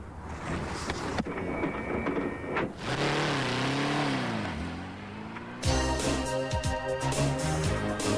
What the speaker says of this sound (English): one of the Pulse Car's major selling points is its incredible acceleration